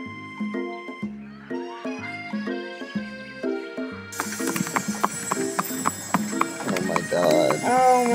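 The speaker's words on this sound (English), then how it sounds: "he's riding on a horse" Galloping horse hooves in the video game I Love You, Colonel Sanders, a rhythmic clip-clop with a horse whinny over game music that shifts partway through into a fuller, brighter score.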